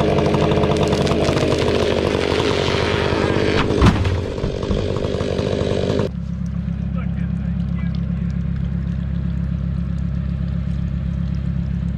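A chainsaw cuts a big open notch to fell a tree, loud and close at full throttle, then drops to a steady idling rumble partway through.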